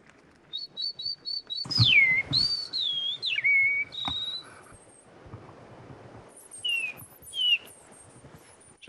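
A person whistling to imitate the call of a Eurasian bullfinch, a series of short clear whistled notes followed by longer sliding, mournful whistles, with faint higher chirps in between and a quiet outdoor background.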